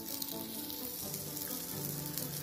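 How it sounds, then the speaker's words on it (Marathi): Fasting kachori shallow-roasting in a little oil on a pan, giving a steady, close sizzle that carries on evenly without pause and with no voices. "आणि अशीच आपण वरून पण भाजून घ्यायची आहे छान थोडं तेल टाकून"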